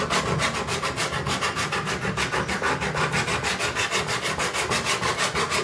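A chisel being sharpened on a Harbor Freight diamond sharpening block. Steady, fast back-and-forth scraping strokes follow each other close up in an even rhythm, with no talking.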